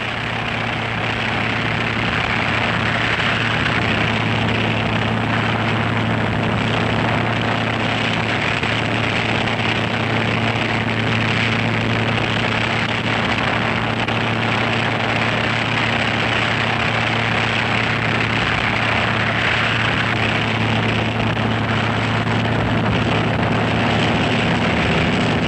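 Helicopter engine running steadily during a troop landing, a continuous loud drone with strong low tonal hum, unbroken and close throughout with no talk.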